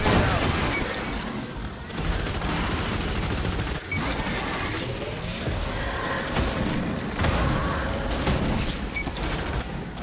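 A grenade goes off during a firefight in Aliens Fireteam Elite, a heavy blast buried in a continuous loud wash of gunfire, debris and combat noise that never lets up.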